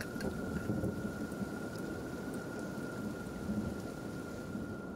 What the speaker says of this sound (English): Rain feels nice.